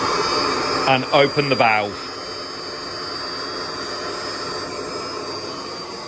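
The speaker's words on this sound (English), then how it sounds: "And then you would turn your blower on, which we'll do now, so it will get a bit noisy," Air blower on an Evolution Aqua K+ aquarium filter runs as a steady whooshing hum with a high tonal whine, starting under a brief spoken remark and continuing alone.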